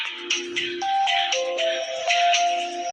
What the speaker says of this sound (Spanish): El tono de mensaje.